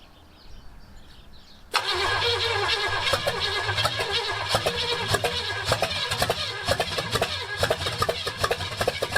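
An abandoned Pontiac 400 V8 is cranked after a short quiet lead-in, then catches and runs with a loud, rough, steady rumble close to the listener for the rest of the clip.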